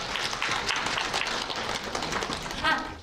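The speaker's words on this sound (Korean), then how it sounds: "큰 박수를 받아주시기 바랍니다." A burst of applause from an audience at a university student information session, dense and steady clapping filling the room for a few seconds.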